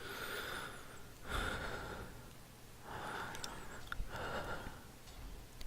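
Heavy, rasping breathing from an animatronic in the horror video game Case Animatronics comes in slow, swelling breaths separated by pauses, quiet and close, with a faint hum underneath.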